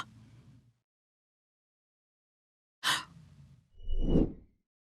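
A sharp gasping inhale, a brief held pause, then a longer breathy release of air, close and clear after a stretch of silence, as in a singing breath-control exercise.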